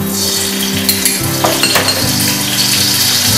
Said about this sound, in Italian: cominciamo a far cuocere i nostri ingredienti mettiamo un po' di pomodorino